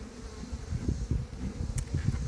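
Bees buzzing around their destroyed hive, a low, steady droning hum that swells and dips in short pulses, close and continuous.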